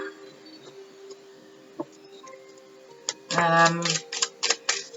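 Tarot cards shuffled by hand, a soft flurry of papery riffles and quick taps that builds into a denser burst near the end, fairly close, with faint background sounds.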